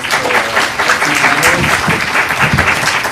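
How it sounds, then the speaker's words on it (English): Steady, full applause from an audience at a talk on a Sikh history book, loud and continuous throughout with no pauses. "So if I can get a big hand of applause for"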